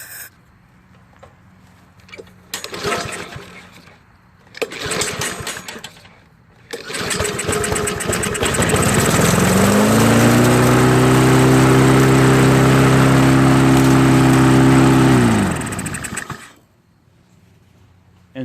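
Small engine of a neglected Troy-Bilt lawn mower, with a couple of short pull-start bursts, then catching and revving up to a loud, high-pitched, overly fast run for several seconds before cutting off, with brief talk before the start.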